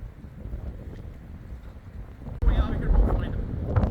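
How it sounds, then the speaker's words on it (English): Wind buffets the microphone in a low, rumbling roar at the waterfront that grows louder and gustier partway through, with a voice faintly mixed in. "Super windy down here today."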